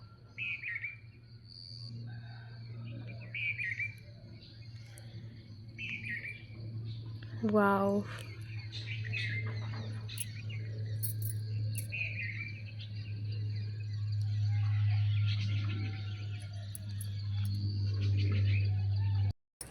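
Small birds chirp and tweet in repeated short bursts over a steady low hum outdoors, with a brief rising call in the middle and a person's soft exclamation of delight.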